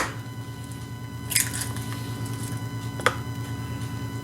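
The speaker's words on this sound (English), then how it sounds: "I always like to use a cup to crack my eggs into one at a time" Eggs for a bourbon pecan pie cracked one at a time into a cup, two brief sharp cracks with wet squishy splats, close and fairly quiet over a steady low hum.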